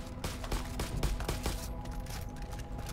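Rapid gunfire in the video game Far Cry 5, a string of sharp shots at uneven intervals, fairly faint, with sustained rumble between them.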